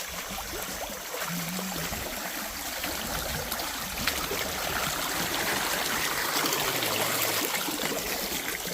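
Creek water flowing steadily along a stream bed, heard during a summer bikepacking trip as a continuous broadband rush with no voices.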